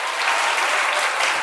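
Audience applause fills the room in a dense, steady burst of clapping, loud and uninterrupted for the whole stretch with no voices over it.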